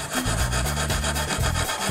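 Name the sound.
brass brush scrubbing MDF wood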